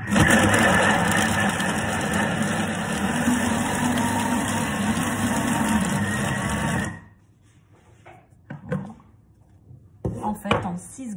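Thermomix food processor running at speed 7 while mixing dough for stuffed breads or paninis, a loud steady whirring churn for about seven seconds that stops abruptly, followed by quiet handling clatter.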